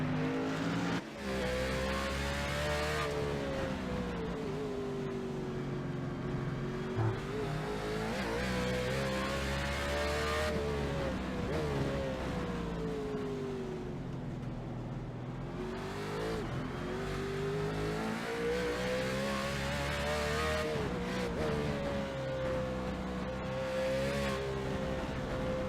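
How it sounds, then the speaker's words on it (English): Onboard a NASCAR Cup car, the No. 33, lapping the Sonoma road course: a loud, continuous engine note rising and falling steadily through upshifts and throttle lifts, with no voices, for the whole ride. "ride on the in-car with the 33 of Corey Hoover just to show you what it looks like here running at Sonoma in the Cup cars"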